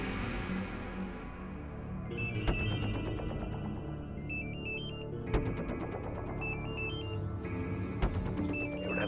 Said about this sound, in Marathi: एवढ्या रात्री कोणाचा फोन आहे?